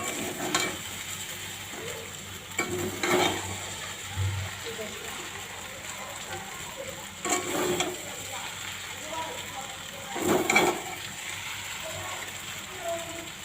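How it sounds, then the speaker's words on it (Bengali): Spices being stirred into noodles in a pan at home, a few scraping, clattering strokes of a utensil against the pan at irregular intervals over a faint sizzle. "আমি মশলাগুলো মিক্স করে দিতেছি উপর নিচে করে"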